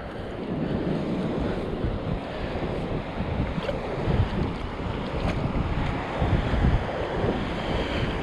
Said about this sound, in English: Keep my back to the wind here.